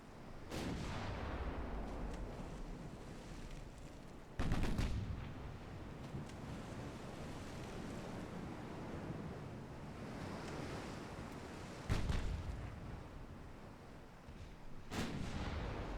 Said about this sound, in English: She's firing high explosive rounds.